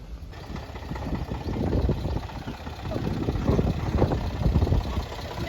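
Tractor engine idling near a small hill, a low rumbling chug close by with uneven knocking pulses under some background noise.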